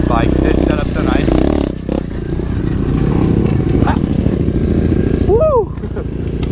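An SSR 125 pit bike rides a dirt trail, its engine droning loud and steady throughout with rattling suspension clatter, while a rider shouts and talks over it.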